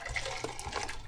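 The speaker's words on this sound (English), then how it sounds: "once the water out of the cabbage is cooked out, you have to drain it in the sink" Water from cooked cabbage pouring through a strainer into a kitchen sink, a brief steady splashing gush at moderate volume with no talking.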